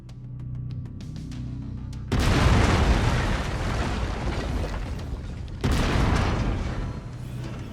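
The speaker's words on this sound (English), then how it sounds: "I've mapped the autocannon to Weapon Group 1. You're free to fire whenever you're ready." Autocannon fire from a mech in the video game Mechwarrior 5 Mercenaries: two loud, heavy booming bursts of sustained gunfire, each with a dense, roaring blast that rings on, the second following a few seconds after the first.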